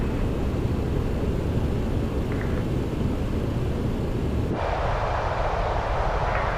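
MD-11F jet engines roar in a steady, unbroken wash of broadband noise from Microsoft Flight Simulator, loud and constant, with a sudden shift in tone partway through as the sound dulls and thins at the top.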